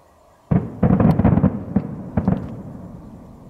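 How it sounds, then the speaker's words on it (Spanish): Festival rockets burst over a village fiesta in Santa Ana: a rapid cluster of sharp bangs, then a few scattered later pops, heard from some distance outdoors and fading into a faint rumble. "Los cohetes allá en Santa Ana."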